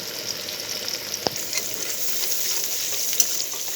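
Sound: onions frying in a pan

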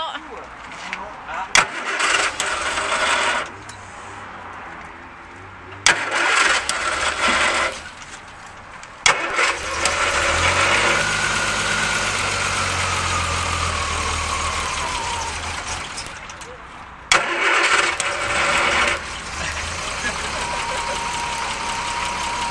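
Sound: sports car engine starting and idling

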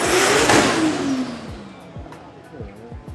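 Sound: cars revving at Souped Up Thailand 2019 practice day

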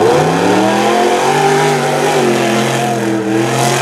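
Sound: race truck engine revving during rough truck race

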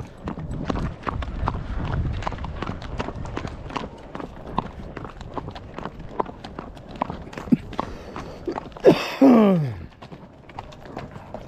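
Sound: horse hooves clip-clopping while riding

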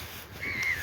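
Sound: crows cawing

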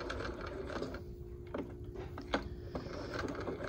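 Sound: sewing machine stitching a curved seam

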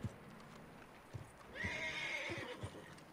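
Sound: horse neighing in a video game

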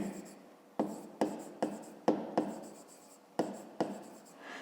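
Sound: writing a maths solution by hand

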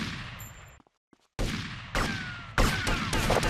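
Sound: gunshot in the GTA Vice City video game

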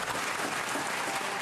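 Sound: applause in the Senate chambers

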